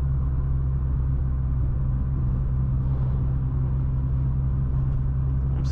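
A modified Chevrolet Astra accelerates hard in fourth gear on a road, giving a steady, loud, low engine drone with a constant deep hum and road rumble and no pauses.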